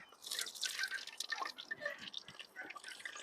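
Cumin and mustard seeds splutter in hot oil with rapid, close crackling pops scattered over a faint sizzle.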